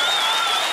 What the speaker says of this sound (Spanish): Vamos a brindarle un fuerte aplauso a Papá Dios.